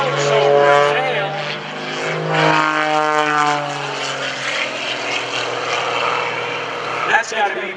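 Aerobatic airplane at an airshow tumbling nose over tail, its propeller engine droning loudly and continuously with shifting pitch sweeps, close and dominant throughout.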